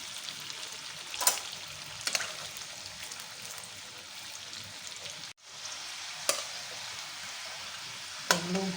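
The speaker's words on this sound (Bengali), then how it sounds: "আর যেগুলো আছে ভেজে তুলে নেব।" Jackfruit kofta balls deep-fry in a pan of oil with a soft, continuous sizzle, broken by a few sharp clinks and scrapes as they are stirred or lifted out.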